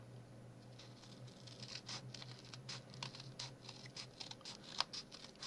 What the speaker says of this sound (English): and just ordinary scissors cut it.